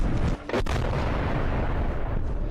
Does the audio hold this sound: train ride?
no